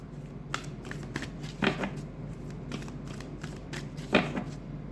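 Tarot cards riffle and slap softly as they are shuffled and drawn one by one, a close, quiet run of flicks and taps with a couple of louder card snaps.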